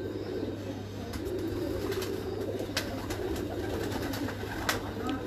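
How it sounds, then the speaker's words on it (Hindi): A young breeder pigeon from a paired couple coos in low, soft repeated calls close by, over steady background hum with a few sharp clicks and taps. "एक और कबूतर लेके आया हूँ, ये भी ज़्यादा एज नहीं है इसकी, जवान कबूतर जोड़े लगा हुआ, ब्रीडर कबूतर है उस्ताद मोहतरम।"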